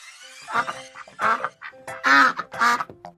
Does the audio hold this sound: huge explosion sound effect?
no